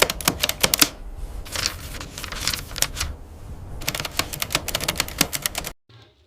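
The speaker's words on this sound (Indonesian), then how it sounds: "Saudara Saud Milik bisa mengetik naskah proklamasi ini." A typewriter types out the Indonesian proclamation text in rapid bursts of sharp, close key strikes, with two short pauses and an abrupt stop near the end.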